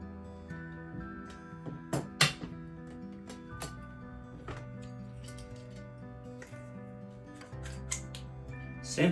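A silicone tube being cut by hand: a few sharp snipping and crunching clicks scattered over a steady tonal background hum, with no speech.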